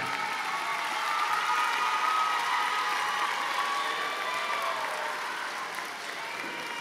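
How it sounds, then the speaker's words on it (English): Sustained applause from a large crowd at the Stratford High School Class of 2022 graduation ceremony, honoring the graduates' parents; a dense, steady wash of clapping that holds at full strength throughout. "give a round of applause for all these parents that got you here"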